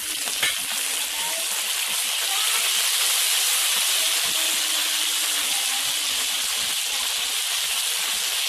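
Chicken pieces and onion fry together in a pan with a loud, steady hiss and crackle that keeps going without a break, and no one talks over it.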